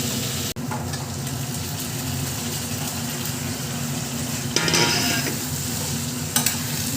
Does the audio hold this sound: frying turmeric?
yes